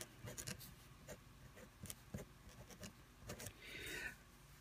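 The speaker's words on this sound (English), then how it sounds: "let's write our letters out" Letters of a music scale are written out by hand, making soft scratchy strokes and taps of pen or marker in short bursts, quiet and near, with a longer rubbing stroke near the end.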